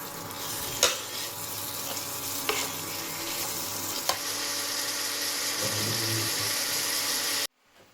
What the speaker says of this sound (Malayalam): ചിക്കൻ അതിലേക്ക് തട്ടിയിട്ടുണ്ട് ഇനി നന്നായിട്ടൊന്ന് ഇളക്കി കൊടുക്കാം